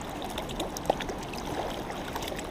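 A small backwoods trout creek flows in a soft, steady babble of moving water. It stays faint and continuous throughout, with no voices over it.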